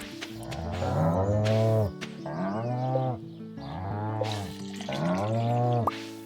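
Cows in a farming video game moo in long, drawn-out calls, one after another, with several overlapping lowing voices across the stretch, loud and close with no talk.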